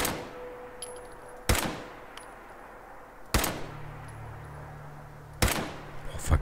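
Gunfire in Fallout 4 cracks out as three loud, isolated shots spaced about two seconds apart, each with a short decaying tail over a quiet, steady ambient game background.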